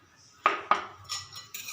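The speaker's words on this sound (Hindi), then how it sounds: "मैंने इसको अच्छी तरह मिक्स किया।" A spoon clinks twice against a bowl while ground chutney is mixed into yogurt, followed by softer scraping and stirring sounds, close and fairly quiet with no talking.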